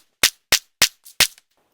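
Glock pistol shots at a shooting range: four sharp, loud cracks about a third of a second apart, with a fainter pop between the last two, and no talk.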